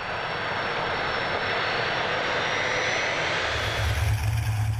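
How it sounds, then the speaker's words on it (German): Aircraft engine noise at Frankfurt Airport, where the three-engine Junkers Ju 52's burble is drowned out; a steady, loud, broadband roar continues throughout with no talk, strengthening slightly near the end. "Das typische Blubbern der drei Triebwerke geht unter im Lärm des Frankfurter Flughafens."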